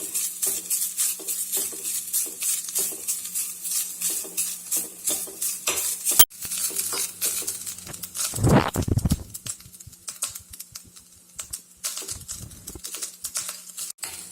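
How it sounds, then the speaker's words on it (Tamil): Grated coconut roasting in ghee in a pan, with a rhythmic stirring scrape repeating through the clip, a soft sizzle underneath, a brief clatter and a louder burst of utensil noise partway through. "நெய் ஊற்றினதுக்கப்புறம் தேங்காய் துருவலை போட்டு செவக்க வறுத்துக்கணும்."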